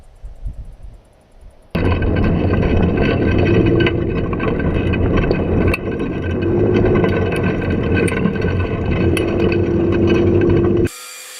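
A Ural motorcycle fitted with a Toyota Vista car engine being ridden, a loud rough engine roar with rattling mechanical clatter and wind buffeting that starts abruptly after a quiet moment and cuts off sharply near the end.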